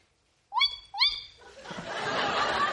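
A person imitates a tawny owl, giving two rising, tonal hoots in quick succession, followed by a swell of laughter from an audience.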